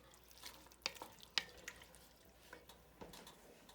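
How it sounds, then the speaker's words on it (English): A spoon stirs homemade vegetable soup in a pot, making soft, close liquid swishes with a few sharp clinks against the pot, scattered unevenly over a quiet simmering background. "Just mix it up, stir it in good."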